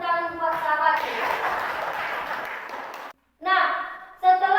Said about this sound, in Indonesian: Berikan lagi tepuk tangan buat sahabatnya